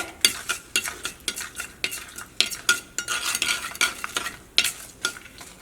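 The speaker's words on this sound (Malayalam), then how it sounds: "അപ്പോൾ ഈ കടുക് പൊട്ടട്ടെ." Mustard seeds, fenugreek and dried red chillies splutter in hot coconut oil for a tomato curry: quick sharp pops and crackles over a light sizzle, with occasional utensil clinks.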